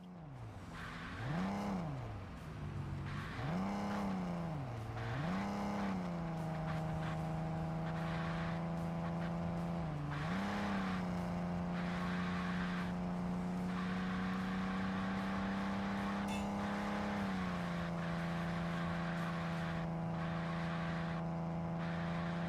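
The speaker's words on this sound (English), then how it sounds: "Wow, this tire squeal is irritating." A Ford Mustang in a racing video game climbs and dips through engine revs, then settles into a long sustained tonal whine of squealing tires, loud and continuous with no talk.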